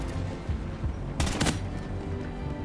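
Gunfire in the Call of Duty: Ghosts campaign: a short, sharp burst of shots cracks out midway through, set against low, rumbling game ambience with no talking.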